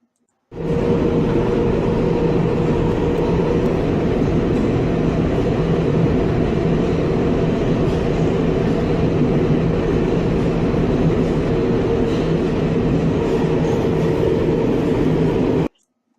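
A New York City subway train rolls along with a steady, loud rumble and droning hum that holds evenly for about fifteen seconds before cutting off abruptly.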